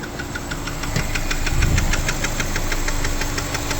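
A Honda Civic EF sedan engine idles roughly near the mic with a fast, steady ticking knock over a low rumble, stumbling and swelling slightly midway, with no voices.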